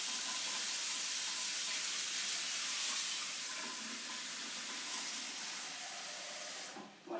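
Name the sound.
cold water poured into a large saucepan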